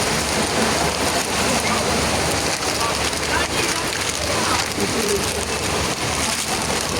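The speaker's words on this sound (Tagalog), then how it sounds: "Ayaw na tayong tigilan ng ulan." Heavy rain falls on plastic sheeting covering a shop's toy display, a dense, steady drumming that stays loud and unbroken throughout.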